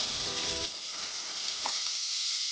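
Onion sautéing in hot oil in a pan with mustard seeds, urad dal and fennel, giving a steady soft sizzle with a brief stirring scrape partway through, fairly quiet and with no voices.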